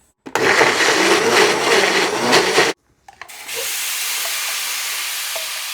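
Loud electric blender grinding turmeric, garlic and shallots into a spice paste for yellow rice, a steady dense whir that cuts off, then restarts with a thinner, higher whine.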